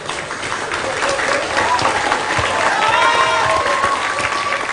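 A seated audience at a university dialogue event in Indonesia gives lively applause, a steady dense clatter of clapping with crowd murmur and a few voices mixed in throughout.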